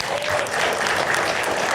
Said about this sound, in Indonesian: Aplaus untuk anak muda topi merah.